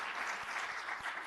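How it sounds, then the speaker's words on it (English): Applause from an audience at a year-end project forum, a soft, steady wash of hand claps heard from some distance across the whole moment, with no voices over it. "Can I get a hand clap?"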